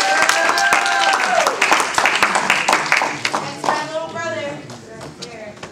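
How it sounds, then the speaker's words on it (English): A poetry slam audience at the 2010 National Poetry Slam claps in a dense, lively burst that gradually thins out, with a performer's voice coming in over it. "Danez, Madison, clap it up."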